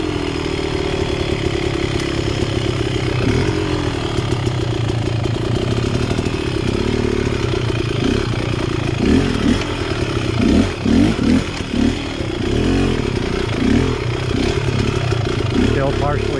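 An X-Trainer motorcycle cruising slowly with the clutch partially pulled in gives a loud, continuous engine drone with a rough, buzzing pulse and some uneven wobbles in pitch throughout.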